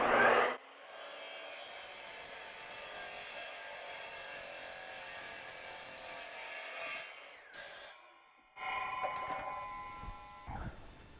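Saw cutting plywood to 22¼ inches for a child's slide; a steady close rasping cut for about seven seconds, then a short burst and a final stretch with some rattling as the cut finishes.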